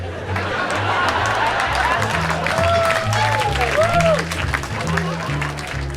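A comedy show audience in a club breaks into mixed laughter and clapping, a steady crowd roar of chatter and applause that swells and lingers, with a voice rising over it.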